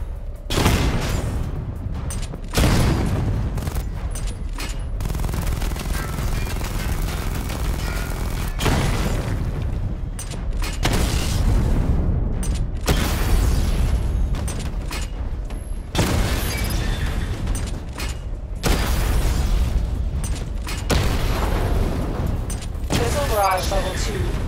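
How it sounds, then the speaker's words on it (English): Batmobile missile barrage explosions in Batman: Arkham Knight, a run of heavy booms and blasts recurring every few seconds over a steady engine-like rumble, with a voice speaking intermittently between them. "Charge the missile barrage to level 2 to destroy up to 4 targets at once."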